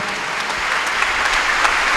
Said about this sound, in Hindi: आइए जोरदार तालियों में डॉक्टर लियाकत कैसर खुदा के खादिम